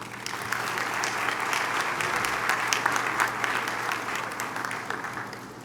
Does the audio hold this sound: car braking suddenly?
no